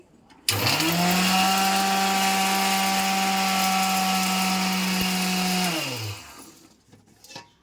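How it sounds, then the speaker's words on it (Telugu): A kitchen grinder powders fenugreek and mustard seeds for tomato pickle, starting abruptly into a loud steady motor whine with rattling seeds, running about five seconds, then winding down and stopping, followed by faint handling clatter. "ఇప్పుడు మనం మెంతులు ఆవాలు పొడి చేసుకుంటున్నాం"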